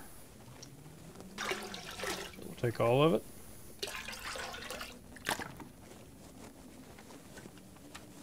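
Water being collected from a toilet in the survival video game The Long Dark: a short burst of trickling, splashing liquid in the middle, with scattered clicks and soft game noises around it and someone talking briefly.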